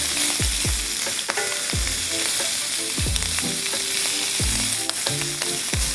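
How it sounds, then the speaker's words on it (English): Shrimp dropped into a smoking hot pan sear with a loud, constant hiss, punctuated by repeated sharp clacks and pops as pieces land and are spread out, close and intense. "That pan is smoking hot. It is. All right, it's time to put these in here."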